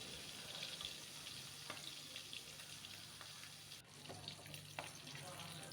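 Masala-marinated quail frying in hot oil, giving a faint, steady sizzle and crackle with a few brief clicks, heard alone without talk.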